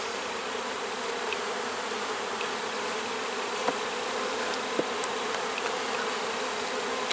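Honey bees buzz steadily around an open hive during a honey super inspection, a dense continuous drone with a few louder bees passing close by.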